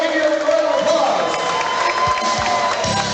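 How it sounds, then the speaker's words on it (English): A fight-night crowd cheers and applauds steadily throughout, with whoops and shouts rising over a dense, loud wash of voices. "Yusmany Pardo, give you a round of applause."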